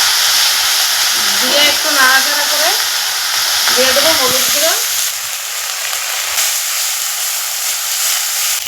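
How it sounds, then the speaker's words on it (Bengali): Ground cumin, ginger, onion, green chilli and garlic pastes frying together in a hot wok for a mustard pabda fish curry, a loud, continuous sizzle. Short tonal squeaks are heard near the start. "এই বাটা মশলাগুলো আমি একসাথে কড়াতে দিয়ে দেবো"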